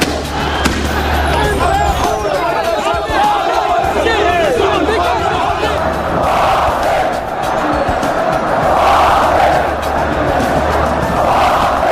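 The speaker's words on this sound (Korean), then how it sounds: "성난 시민들의 함성으로 지구촌은 요동쳤습니다." Angry protesting citizens roar and shout together in a large street crowd, a loud continuous wall of voices with rising cheers and scattered bangs throughout.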